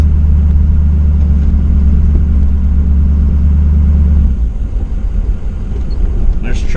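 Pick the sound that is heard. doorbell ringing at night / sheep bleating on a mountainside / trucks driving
trucks driving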